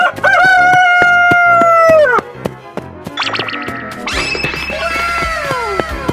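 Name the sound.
rooster crowing in 3D animal video game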